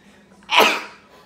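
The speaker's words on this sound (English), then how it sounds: "hold on, I gotta sneeze." A single loud, close sneeze bursts out after a short quiet inhale, then fades into soft breath.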